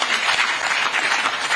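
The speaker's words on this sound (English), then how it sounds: "let's clap for Vanyirende." An audience at an investment forum in Chinsali District applauds in a steady, dense patter of clapping, loud and continuous throughout.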